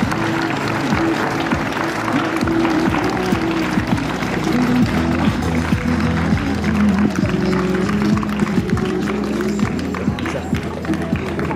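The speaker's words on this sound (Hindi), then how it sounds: "तालियों की गूंज बजती रहे" Audience applause at a school annual function in Randoh fills the hall, a dense, steady clapping that holds for about eleven seconds, with faint tonal sounds beneath.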